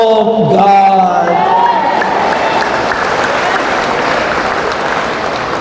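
Church congregation applauding during a sermon, dense steady clapping throughout, with a voice speaking over it at the start.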